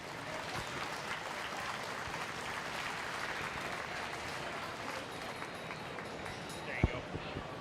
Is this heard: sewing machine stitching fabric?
no